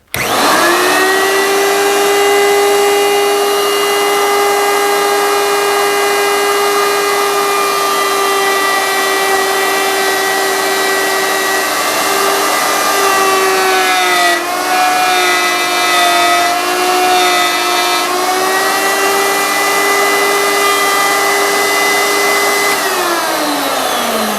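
A power saw is plunged down into material, cutting steadily and loud for the whole stretch, with a strong sustained whine that dips slightly in pitch midway as the blade bites, then recovers before the end.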